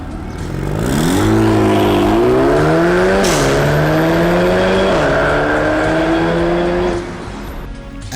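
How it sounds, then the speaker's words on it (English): A four-cylinder car engine's exhaust note, loud and close, revving up in steady climbing pulls with brief dips between gear changes before dropping away near the end. "Here's a 4-cylinder sound."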